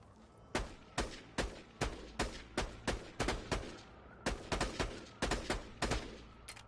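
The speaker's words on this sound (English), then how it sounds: "I don't know if I like the whole shooting twice thing" Bursts of rapid gunfire from a weapon in the video game Borderlands 2 ring out in a steady series of sharp, loud shots, roughly a dozen evenly spaced reports with a brief pause midway, without talk.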